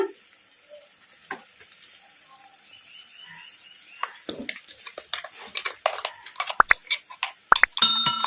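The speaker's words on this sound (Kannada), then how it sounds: "ಈಗ ಇದನ್ನ ಕಲಿಸ್ಕೊಂತ ಫ್ರೈ ಮಾಡ್ಕೊಂಬಿಡೋಣ ಹೈ ಫ್ಲೇಮಲ್ಲಿ ಇಟ್ಕೊಂಡು ಎರಡು ನಿಮಿಷ" Ground masala sizzles and fries in a pan over high flame after garlic paste was cooked for a hotel-style sherva, a steady hiss building into dense crackling pops and stirring scrapes, close and without talk.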